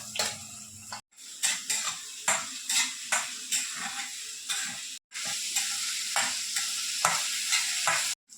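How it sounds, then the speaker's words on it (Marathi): Chopped onion frying in a pan with curry leaves and whole garlic cloves, a steady sizzle broken by repeated rhythmic scrapes of a spoon stirring against the pan, close and clear, with no talking. "आता कांदा पण टाकते आणि हे मस्त कांदा आपण चांगला शिजवून घेऊया."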